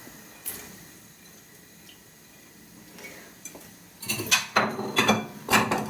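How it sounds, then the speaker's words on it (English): Cubed swede, carrot and broccoli tumble into a pot in a home kitchen, a few quiet clinks followed by a run of sharp, close clattering knocks and splashes against the metal. "So I'm going to add in my cubed swede, my carrot, and broccoli as well."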